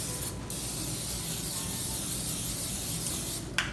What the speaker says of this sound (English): my 9 by 13 baking dish. I'm going to spray it.